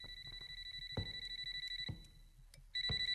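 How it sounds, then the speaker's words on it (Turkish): An electronic telephone in a horror video game rings in repeated bursts of high, buzzing tones, separated by short pauses and a few soft thuds, with no voices. "Telefon çalıyor."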